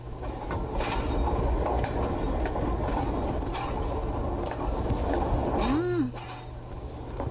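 Train in the video game The Drowning Machine rumbles steadily with a low mechanical drone and clatter, ending in a rising whine, while a voice talks faintly.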